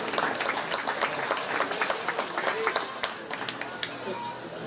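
Steady applause from the crowd at a 4-H sheep and goat show at the Shelby County Fair, dense overlapping claps with sharper individual hits standing out, held at an even level throughout.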